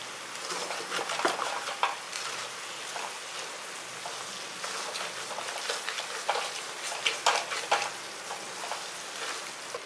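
Amla thokku cooking in oil in a pan, a close, steady sizzle broken by irregular scraping clicks and knocks as a spoon stirs it, with no talking.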